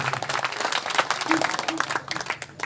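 Audience applause at a mushaira, an Urdu poetry gathering held for an Urs, rolling as a dense, busy wash of clapping with crowd noise and voices mixed in throughout.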